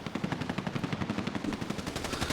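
Rapid bursts of automatic gunfire from a video game, sharp regular shots in quick succession, loud and close.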